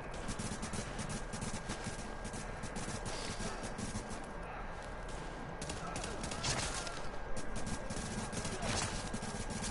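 Sustained gunfire in the shooter game The Division, a dense, constant rattle of rapid shots and crackling bursts that grows slightly louder toward the end, with a voice speaking faintly beneath it.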